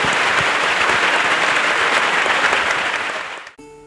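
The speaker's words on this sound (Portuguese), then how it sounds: "aplaudamos o Senhor" A church congregation applauds in praise, a dense, sustained burst of clapping from many hands that fills the space, then cuts off abruptly near the end into a brief musical tone.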